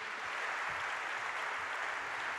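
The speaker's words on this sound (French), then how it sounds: "Je vous demande de les applaudir." Audience applause at a French business conference, a dense, even wash of clapping from a large crowd filling the whole stretch without talk.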